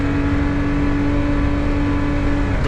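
A Daihatsu Mira engine held at steady high revs, loud and close with a constant droning whine, ending in a short burst of noise.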